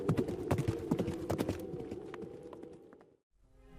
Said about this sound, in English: Gunpowder, the black steed, and the goblin rider passed by like a whirlwind.